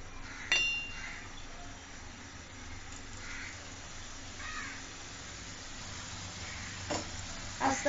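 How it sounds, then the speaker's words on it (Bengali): Pakhi pitha fry in hot oil with a soft, steady sizzle and scattered clinks of a utensil, moderately close and fairly quiet. "এবার আমি পিঠাগুলো, যে পিঠাগুলো তৈরি করেছিলাম, সেগুলো আমি ভেজে নিচ্ছি সুন্দর করে"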